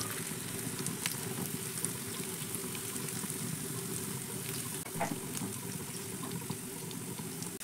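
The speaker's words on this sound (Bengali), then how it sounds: "এবার একে একে করে আমি টিফিনগুলো তেলের মধ্যে ছেড়ে দিচ্ছি।" Semolina snacks sizzle softly and steadily in a frying pan of white cooking oil, a faint continuous crackle with occasional small pops and no talking.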